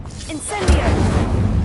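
Short whoosh and low rumbling boom of the Incendio fire spell in Hogwarts Legacy, loud and close, with a voice calling out just before the blast.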